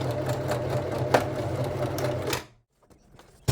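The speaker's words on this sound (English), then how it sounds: "I used the sewing machine just to create the anchor straps" A sewing machine runs in a steady, rapid mechanical whir for a couple of seconds, then stops abruptly, leaving near silence and a final click.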